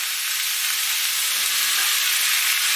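Garlic and zucchini sizzle steadily in hot oil in a pan, a close, bright, continuous frying hiss that stays even throughout with faint stirring movement and no voices.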